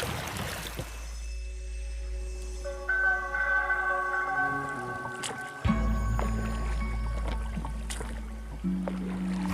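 Oars dip and pull as a rowboat moves along the calm, currentless Yamuna River after its meeting with the Chambal, soft water sloshes under a steady low hum, with a couple of brief knocks and a faint voice in the background.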